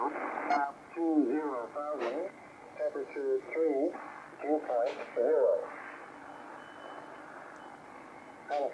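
Shortwave receiver audio with BHI noise cancellation switched on against an S6 to S7 local-interference noise floor, a band-limited voice coming through steadily over a quieter background hiss.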